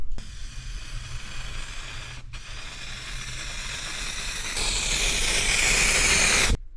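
A spray gun lays Interstellar Gold Pearl paint onto a hotrod in a continuous airy hiss. It breaks off briefly once, then grows stronger and fuller toward the end before cutting off.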